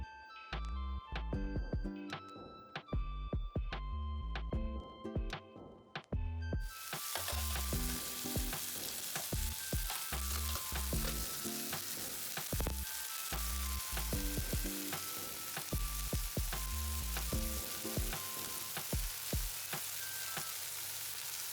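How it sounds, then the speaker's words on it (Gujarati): Chopped green onions frying in a pan with chilli and garlic paste for a Gujarati green onion curry, a loud, steady sizzle with constant crackling and scraping stir sounds throughout, no voices. "હવે તેમાં આપણે કટ કરેલી ડુંગળી નાખીશું"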